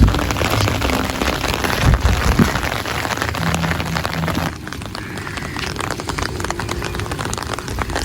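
Steady heavy rain pouring onto a road in Valvettithurai, Jaffna, a dense continuous hiss of drops hitting the wet surface, close and loud throughout, with no talking.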